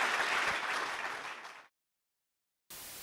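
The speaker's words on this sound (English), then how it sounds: "Can I get one more round of applause for Ken?" Loud audience applause following a DevOps conference talk in Portland, steady dense clapping that fades out over about a second and a half, then silence, before another burst of clapping starts abruptly near the end.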